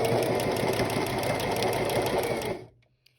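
A sewing machine runs fast and steady, stitching an apron pocket without reverse stitching, a close, loud mechanical whir that stops abruptly near the end, leaving near silence.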